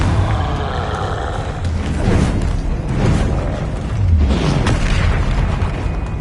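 Confringo blasting spell explosions in Hogwarts Legacy, a string of loud booming bursts with whooshes and rumbling tails, repeated every second or two with no talk.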